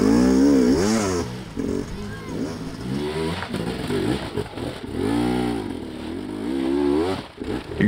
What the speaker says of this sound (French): traverser cette zone en dosant avec précision la poignée de gaz de sa moto